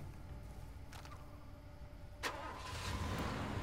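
A car engine starting in Far Cry 2: a faint, low rumble, then a sharp crank-and-catch burst, followed by a steadily building idle.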